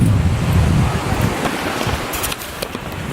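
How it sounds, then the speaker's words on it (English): Surf rolling in at a beach, a steady broadband rush of breaking waves with wind buffeting the microphone, loud and close throughout, no voices. "We came to the beach."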